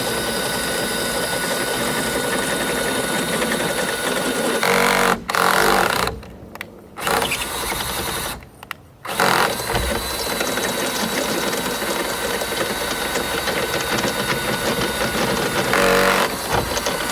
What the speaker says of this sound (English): I really like these step drill bits.